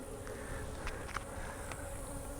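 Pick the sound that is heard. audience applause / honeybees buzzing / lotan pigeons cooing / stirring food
honeybees buzzing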